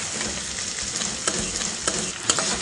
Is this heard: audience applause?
no